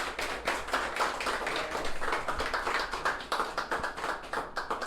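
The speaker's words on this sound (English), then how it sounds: "I think we all should give her a round of applause as well." A small audience claps together for a former school principal at a dedication ceremony, a brisk, fairly close patter of many hands that stays even and then thins into separate claps near the end.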